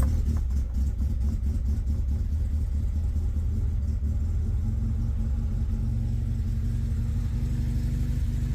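An MGB GT engine cranks and starts with the choke fully out, a rapid ticking at the start settling into an even, steady rumbling idle; close and fairly loud, no talking.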